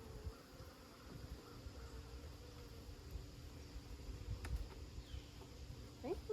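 Honeybees buzz around an open beehive during a September inspection, a faint, steady, continuous hum with occasional louder passes near the end and no talk.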